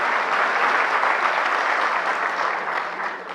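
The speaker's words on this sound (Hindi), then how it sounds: "तो ये तालियां जो हैं" A seated audience at a CSC village-level entrepreneurs' session on Aadhaar updates applauds the speaker; thick, even clapping holds steady from start to finish and fades slightly near the end, with no talking over it.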